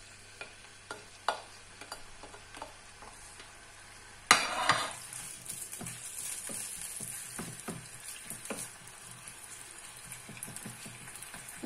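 Garlic and onion hit hot oil for Córdoba-style tripe stew, with a few light taps before the sizzle bursts up loudly and then settles into a steady, crackling fry with occasional stirring clicks.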